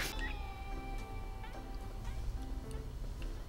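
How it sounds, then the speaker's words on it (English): A house cat meows indoors with a long harmonic cry at the start, followed by fainter tonal calls over a steady low hum and background noise. "my cat is now in here and the door is now open"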